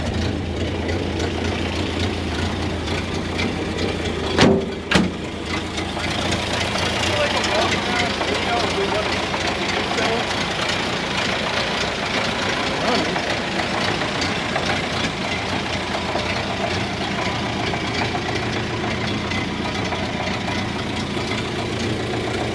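A 93-year-old truck engine idles steadily with a low, continuous rumble, while voices talk over it and a couple of brief sharp knocks stand out early on.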